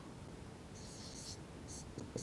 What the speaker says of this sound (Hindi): तो इसको हम लिखेंगे